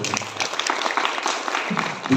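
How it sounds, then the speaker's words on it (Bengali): Theatre audience applause fills the hall after the cast and backstage crew are introduced at a staging by Maheshtala Rupkatha Theatre on the Oikatan stage. The clapping is dense, steady and broadband, with voices mixed in. "তাদের জন্য জোরে হাততালি দেবেন।"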